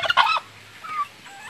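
A short burst of turkey gobbling rings out loudly, followed by a couple of fainter calls further off, during feeding.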